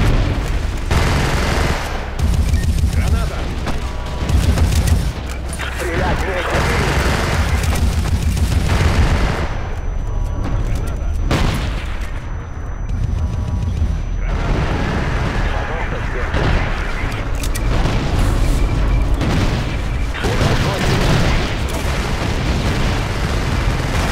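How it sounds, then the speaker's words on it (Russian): Battlefield 2142 battle on Tunis Harbor with grenade blasts, heavy booms and bursts of rapid gunfire, loud and continuous, while voices talk throughout. "Кидаю гранату!"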